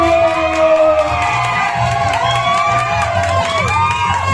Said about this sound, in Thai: โอ้โหกองเชียร์เยอะนะครับวันนี้กองเชียร์เยอะนะครับ